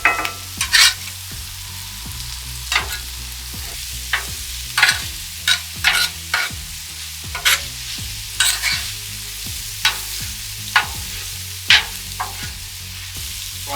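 Steak fajitas sizzle in a hot cast iron skillet, a loud continuous fry punctuated by regular sharp clacks of a utensil moving the meat, close up and without talk.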